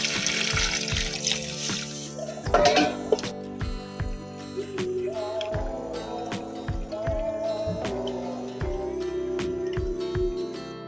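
Water pours into a pot of chicken curry with offal being cooked over a wood-fired stove, a splashing trickle near the start over steady background music and occasional knocks.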